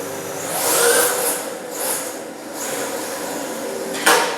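Yokomo YD2 Hi-Flex RC drift car driving, a whining electric motor rising and falling in repeated swells as it accelerates and slides, ending with a sharp knock, fairly close.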